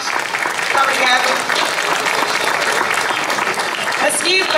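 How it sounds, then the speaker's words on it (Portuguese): An audience at a local singing group's performance applauds Paulo Pires, a dense, sustained round of clapping throughout, with faint voices mixed in. "Paulo Pires, uma salva de palmas."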